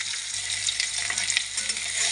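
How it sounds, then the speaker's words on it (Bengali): Pieces of rohu fish fry in a small amount of oil in a wok, a loud, dense and constant close-up sizzle with no pauses and no voices. "এক এক করে মাছগুলো দিয়ে দেবো তিনটে করে দিয়ে দিয়ে ভাজি"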